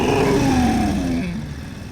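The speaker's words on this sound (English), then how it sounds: "And this is a Thunder Pipes exhaust system." A loud, deep Thunder Pipes aftermarket motorcycle exhaust revs and then settles back, its throaty rumble fading over a couple of seconds.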